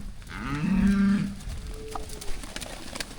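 A cow lets out a loud, deep moo close by in a pasture as a small herd of five cows with calves is moved to grass, followed by quieter rustling and faint outdoor noise.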